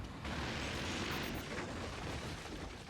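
Explosions and splash damage from weapons in the strategy game Forts, a dense roaring blast that swells suddenly and rumbles on as a continuous wash of debris noise, moderately loud and without speech.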